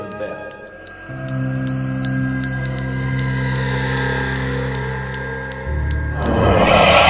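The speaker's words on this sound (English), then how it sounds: "Angkeran means ring the bell." Bright metallic bell strikes ring repeatedly in a quick, uneven rhythm, layered over a sustained low droning tone, with a louder noisy swell near the end.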